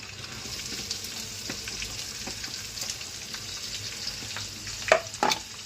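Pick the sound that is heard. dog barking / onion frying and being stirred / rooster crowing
onion frying and being stirred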